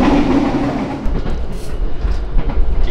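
KA Gajayana passenger train running on rails at night, heard from inside a carriage as a loud, steady rumble with rhythmic clickety-clack and no talking.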